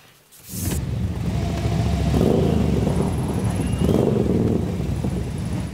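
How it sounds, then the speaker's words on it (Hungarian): Motorcycles and vintage vehicles roll past in a harvest festival parade on a town's main street, a continuous loud engine drone with revving surges and rattling clatter, close by. "Motorok, kerékpárok, veterán járművek és traktorok színesítették a menetet."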